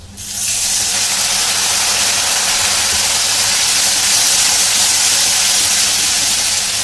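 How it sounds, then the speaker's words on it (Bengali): Water poured into fried, sizzling spice paste in a frying pan while cooking a pangas fish curry; a loud, steady broadband sizzle and hiss swells up almost at once and holds for several seconds with no talking. "একটু অল্প পরিমাণে একটু জল দিয়েছি"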